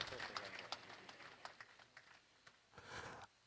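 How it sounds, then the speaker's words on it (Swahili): Applause from an audience at an official signing ceremony between Tanzania and the EACOP crude oil pipeline project, a broad wash of clapping that swells near the end and then cuts off abruptly. "Tuwapigie makofi mengi sana."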